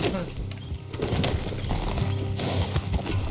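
Hoofbeats of a horse being ridden in Red Dead Redemption 2 clop in a rhythmic gait, mixed with game ambience and tack jingles, while a player's voice talks over it.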